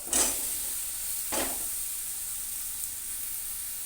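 Taro stolons with turmeric and salt sizzle in a pan, a steady bright hiss with two short louder bursts of crackling near the start, no voices.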